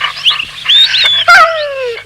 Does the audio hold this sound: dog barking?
yes